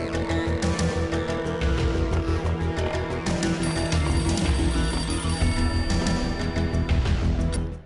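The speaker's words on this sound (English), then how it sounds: "A beaten-up phone in the entrance hall was ringing." A battered telephone rings in an entrance hall in the Max Payne PlayStation 2 game, its repeated jangling pulses half buried under a dense, loud bed of game music and ambience.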